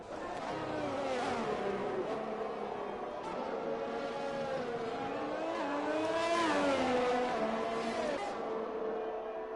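Several F1 cars in a racing video game at the Austrian round, engines revving and shifting in rising and falling whines through the laps, loud and continuous, with a commentator's voice faintly under the engine noise.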